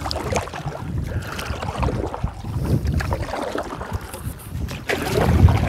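Gusty headwind buffets the microphone during a canoe trip on the Ahnapee River, a broad, fluctuating roar that rises and falls throughout and surges louder at the end.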